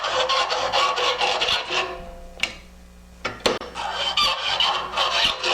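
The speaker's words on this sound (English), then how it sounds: "So we'll just run that file between there and clean that burr up." A metal file rasps across a burr on a bicycle frame tube in a framebuilding workshop, repeated strokes in bursts with a quiet pause and a couple of sharp knocks between them.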